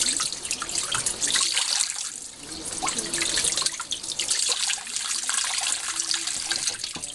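Water running from a tap soaks a foam sponge for washing a vinyl record, a steady close rush with splashing and trickling continuing throughout.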